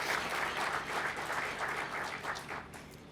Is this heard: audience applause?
yes